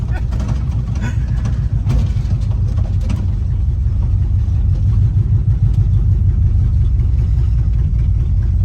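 A Chevy Bel Air with a 265 engine rumbles steadily while driving down the road, a loud continuous low drone with some rattling, under faint talk.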